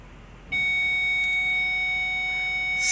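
A Nissan Titan's backup parking sensor sounds a single steady electronic tone that starts abruptly and holds without a break, loud and close.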